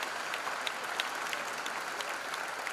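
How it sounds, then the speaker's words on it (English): An audience at a college freshers' induction program claps steadily in a continuous round of applause, a dense patter of many hands with a few sharper claps standing out, heard from within the hall. "Give a big round of applause."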